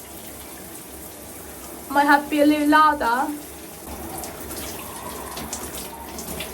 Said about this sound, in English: first things first, let's turn this water on.